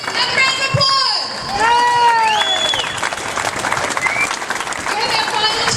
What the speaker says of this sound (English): Mr. Damian, another round of applause!